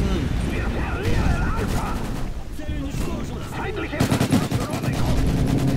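Gunfire rattles in the online shooter Call of Duty Modern Warfare 3, with bursts of automatic shots building to a loud volley near the end as a player talks over it.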